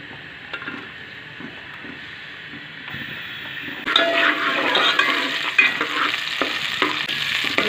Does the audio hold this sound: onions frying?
yes